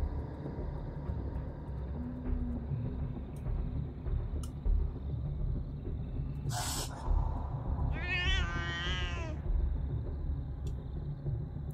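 Cats in the video game CopyCat meow in a rising, wavering cry around the middle of the clip, near and fairly loud over a steady low rumble of game background noise.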